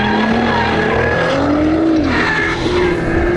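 Nissan R35 GT-R accelerating hard on throttle, engine note climbing steadily in pitch and dropping back briefly at a gear change before rising again, loud and close with tire noise beneath.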